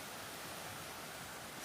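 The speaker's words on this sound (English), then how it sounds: "I can hear water running" A creek runs steadily along a wooded trail near a waterfall, a soft continuous wash of water heard faintly from a distance with no voices.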